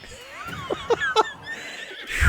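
Magnum, a horse in the video game Breath of the Wild, whinnies in a short series of sharp, rising neighs, moderately loud, ending in a louder burst of sound.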